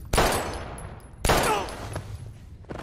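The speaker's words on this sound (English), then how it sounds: "he shot at his feet." Two loud gunshots in Life is Strange, each a sharp crack with a decaying ringing tail, roughly a second apart and fired at someone's feet, with faint sounds trailing after.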